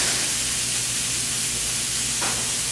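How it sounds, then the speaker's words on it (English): Steak sizzling in a screaming hot pan on an electric stove, a loud, steady, dense hiss that holds without a break throughout, close up. "You can hear it sizzle."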